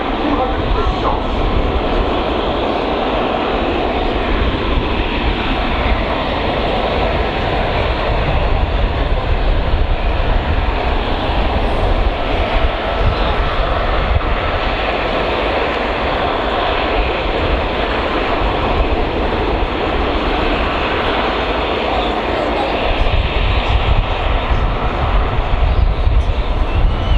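Kawasaki P-1 maritime patrol aircraft with XF7 engines making a fast flyby at up to 250 knots during an air display at RIAT 2015, a steady loud broadband jet roar sustained throughout with no talk.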